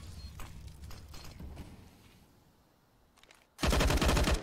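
Automatic weapon fire sprays in a Counter-Strike match on the Nuke map, first a string of scattered shots, then a dense, loud burst of rapid gunfire that closes the moment.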